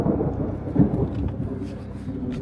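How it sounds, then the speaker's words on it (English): A thunderstorm rolls over a mountain trail near the Phi Kappa Mines in Idaho, with a deep, steady rumble of thunder under a constant wash of rain. "We got a heck of a thunderstorm moving"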